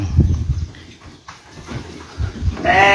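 A pet goat gives short bleats amid farmyard rustling and shuffling, ending in a louder, sustained bleat close by.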